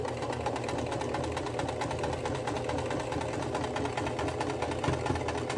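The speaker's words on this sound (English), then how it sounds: "there's a lot of seams going to be happening in this quilt, so be prepared for a lot of clunk" Sewing machine stitching through quilt seams, a steady fast mechanical chatter with a dense even rhythm and occasional heavier clunks, close and moderately quiet with no talk.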